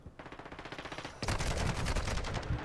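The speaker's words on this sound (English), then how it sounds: "Fucking turret!" A machine gun turret fires in Call of Duty: Modern Warfare II, first as a steady rhythmic stream of shots, then a louder, denser burst of close gunfire that continues to the end.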